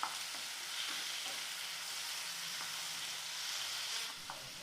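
Steady, soft sizzle of cashews frying in a pan while pasta sauce is prepared, with a few light stirring scrapes, no voices.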